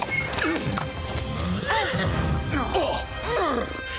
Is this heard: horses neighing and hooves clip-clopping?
yes